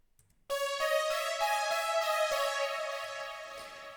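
A retro analog synth lead plays solo, entering abruptly after a moment of near silence and holding bright, sustained, buzzy notes with slight pitch changes, fairly quiet overall.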